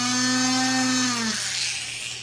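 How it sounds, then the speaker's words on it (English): A setting burr in a small high-speed drill whines steadily while enlarging a hole for flush-setting a faceted stone, its pitch sliding down as it bears into material, then dropping into a rougher, softer grinding hiss. "I drill out with the setting burr to enlarge the hole"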